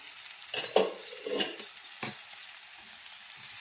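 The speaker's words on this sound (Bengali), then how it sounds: "তলা অবধি আবার নাড়াচাড়া করে নিচ্ছি" Spoon scraping and stirring mixed vegetables, pumpkin and Malabar spinach, in a hot pan, a few close scrapes over a soft sizzle with no talking.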